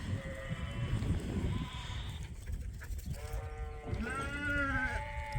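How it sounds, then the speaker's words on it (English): Fall ewe lambs on a sheep farm bleating, several overlapping calls near and loud, one early and a cluster toward the end, over a busy barn background with no speech. "These are the fall ewe lambs."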